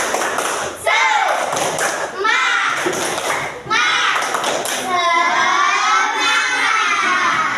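Classroom children perform the rhythmic 'tepuk semangat' clap chant, sharp group claps in quick patterned bursts mixed with loud, excited chanting voices, close and lively throughout.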